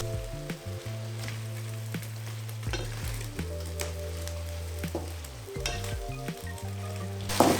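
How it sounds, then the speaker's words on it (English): Strained pasta stirred into a hot pan for a lemony asparagus salmon dish, a steady sizzle with clinks and scrapes as it is mixed, no talking. "I've also strained my pasta, adding it in, giving a short mix"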